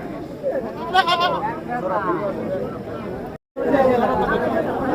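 Goats and sheep at a livestock market in Ullapara, short bleats rising over constant crowd chatter and talk nearby, with a brief gap in the sound.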